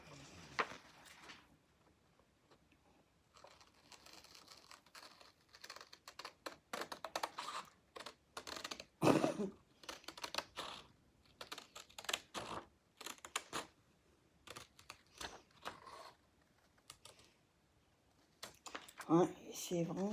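Dull scissors chew through paper while a homemade envelope is cut: a run of irregular crisp snips and rustles, close and fairly quiet, with brief pauses and a voice now and then.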